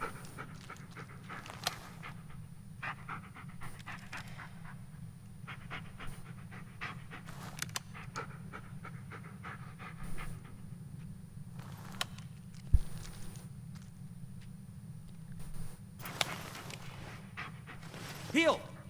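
A dog pants steadily and rapidly throughout a walk through the woods in the Blair Witch video game, close and continuous, with occasional footsteps and small knocks in the background.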